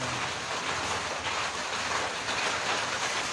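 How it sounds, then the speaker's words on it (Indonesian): Steady rain falls continuously, a dense even hiss that fills the whole stretch without pauses, and no one speaks over it. "Wah hujan Bun"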